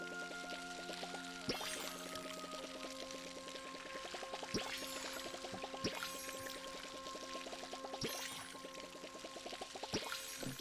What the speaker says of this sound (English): now we're gonna go and water the rest